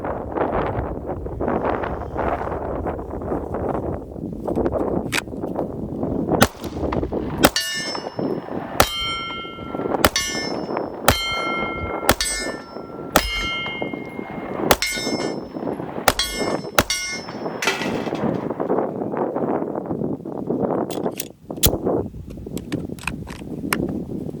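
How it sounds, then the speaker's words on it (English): Pistol shots from a Palmetto State Armory Dagger Compact ring off steel targets outdoors, a quick series of bright clangs with ringing tails over steady wind noise, spaced irregularly across the clip. "I'll shoot a couple more too."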